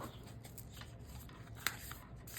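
Overhand shuffling of a deck of playing cards with gem-themed card backs, a soft continuous riffling and rubbing of card stock with one sharper snap midway, close and fairly quiet with no talk.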